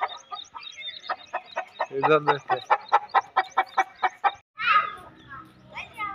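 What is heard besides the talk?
hens clucking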